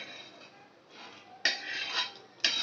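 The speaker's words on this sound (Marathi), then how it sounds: "खोबरं सोनेरी रंगावर भाजून झालं की आपण ते आता मिक्सरच्या भांड्यामध्ये काढून घेणार आहोत" Roasted coconut, for spicy shev bhaji, is scooped from a pan into a mixer jar. Soft scraping is punctuated by two sharp, close metal clinks of utensils against the jar.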